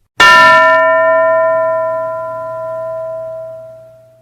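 A single bell is struck once with a sharp attack, and its bright metallic ring sustains for about four seconds as it slowly decays, alone and close.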